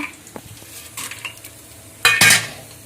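Dried red chillies and mustard seeds hit hot oil with a sudden loud sizzle and crackle after a stretch of quieter stirring and utensil clatter, close by.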